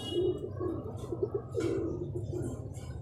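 A Teddy pigeon hen, crossed with golden stock, gives soft, repeated cooing over a steady low hum, faint and somewhat distant.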